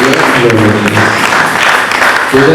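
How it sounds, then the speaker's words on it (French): A congregation at a church service in Kahemba, Bandundu, breaks into loud, dense applause that swells and fades over a couple of seconds, with voices mixed into the clapping. "Acclamons très fort pour la parole"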